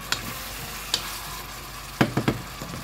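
Tomato sautés quietly in a pan, a soft low sizzle broken by a few scattered utensil taps and a quick cluster of stirring clicks near the end.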